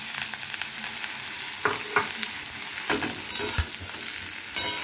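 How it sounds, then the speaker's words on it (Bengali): Cauliflower pieces sizzle in hot oil in a pan, a steady crackling hiss broken by a few louder spatters and stirring scrapes, close and without any talking. "ফুলকপিটাও দিয়ে আমাকে একটুখানি লাল লাল করে ভাজতে হবে"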